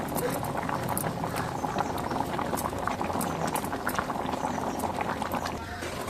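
A pot of sambar made with drumstick leaves and toor dal boils vigorously, with continuous close bubbling, popping and gurgling that stays busy and steady throughout.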